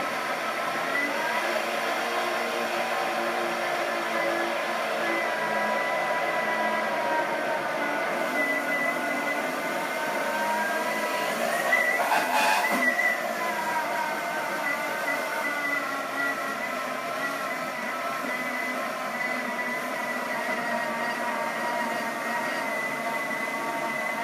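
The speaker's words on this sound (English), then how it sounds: "And mix it on speed 10. Just to get the egg white mixed right through." A kitchen mixer runs at speed 10, blending egg white into strawberry sorbet, giving a steady, loud mechanical whir with a constant motor tone that holds evenly throughout, briefly rising once midway.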